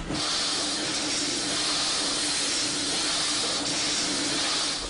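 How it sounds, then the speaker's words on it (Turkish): An antique steam piston engine at a museum in Vista, California: steady, loud hissing of steam with a low mechanical rumble underneath, continuous throughout without a clear piston beat. "Ancak buhar pistonunun sesi San Diego yakınlarındaki Vista California Antik Motorlar Müzesi'nin her yerini sarmaktadır"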